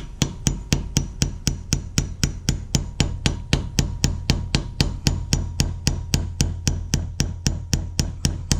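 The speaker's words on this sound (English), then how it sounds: "we're going to use this little tiny hammer to drive this in here" A small hammer taps rhythmically and evenly, about three sharp strikes per second at close range, driving a crankcase ventilation grommet into a Jeep TJ.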